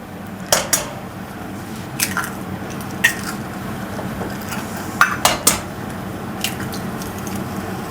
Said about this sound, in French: On va casser les 2 œufs.